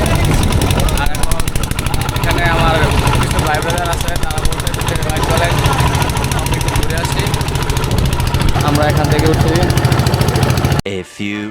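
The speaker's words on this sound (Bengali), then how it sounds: "আর এই যে আমরা ট্রলার দিয়ে ঘুরতেছি" A loud, steady fishing trawler engine chugs continuously close by on a river, with a rough rhythmic thrum filling the whole stretch; a voice talks over it in places.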